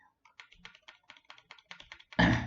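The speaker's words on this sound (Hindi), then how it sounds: "मैं कीबोर्ड का एरो प्रेस कर रहा हूँ" Arrow keys on a computer keyboard are tapped repeatedly while working in Revit Architecture 2023, about a dozen quick, close clicks in an uneven rhythm, ending with a louder burst of noise.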